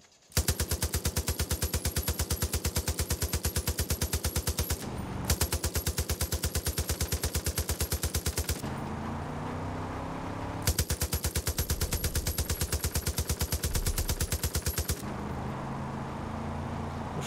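Sustained rapid automatic gunfire in the video game Far Cry 5, in long bursts, loud and close, with short pauses and a lower rumbling texture between volleys; no talking.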